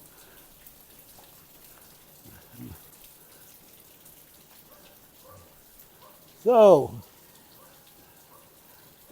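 Light rain patters through a home garden with running waterfalls, a faint steady hiss in the background. Someone speaks briefly and there are a few short louder sounds over the rain.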